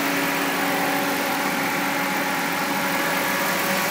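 A 2006 GMC Sierra Crew Cab 4x4 with a 5.3-liter engine idles at a steady, even rumble, close and constant throughout with no voices.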